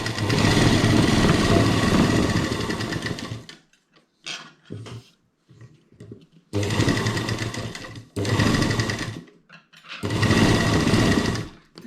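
An electric sewing machine stitches fabric in three long, loud whirring runs broken by quiet gaps with small handling noises and brief talk.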